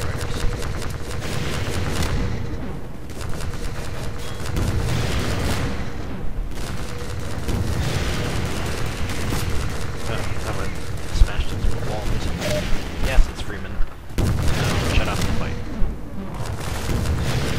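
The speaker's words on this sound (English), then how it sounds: "I hear a rocket. I'm guessing there's more Striders." Rocket explosions and gunfire from a fight against Striders in Half-Life 2: Episode, with dense, continuous booms and rattling shots. A voice talks over the battle in places.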